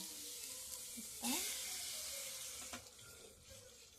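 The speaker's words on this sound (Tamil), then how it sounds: "இதில் தண்ணி ஊற்றணும்" Water pours steadily into a pot of sautéed vegetables for homemade vegetable soup, a close, continuous rush with a brief louder splash near the start.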